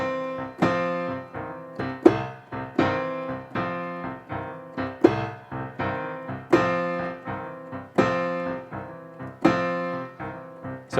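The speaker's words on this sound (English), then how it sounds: "my two-hand shuffle pattern that also sounds really great," Piano playing a two-hand blues shuffle pattern, rolling chords with a swung, evenly repeating rhythm, loud and close, with no talking.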